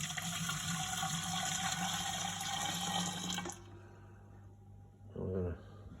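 Hot sanitizer poured from a container into a small keg during homebrew kegging, a steady gushing liquid rush for about three and a half seconds that stops abruptly, followed by a brief thud near the end.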